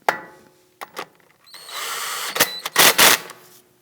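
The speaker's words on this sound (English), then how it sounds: "Let's go ahead and install our axle bolt. And let's gently snug this down." Power tool snugging an axle bolt on a 2001-2009 Volvo S60 during front control arm bushing work, heard as several short buzzing bursts and a longer whirring run, close and fairly loud with no talk.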